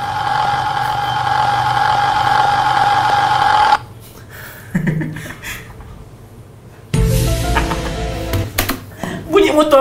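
Motorcycle engine running close by, a loud steady drone that cuts out abruptly partway through, followed by a quieter gap and then a burst of louder mixed sound, with people talking throughout.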